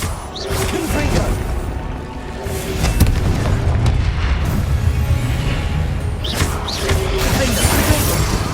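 A Confringo fire spell exploding in Hogwarts Legacy, with dense rumbling booms and crackling blasts that sustain throughout amid game effects, with a loud burst around the middle and another flare near the end.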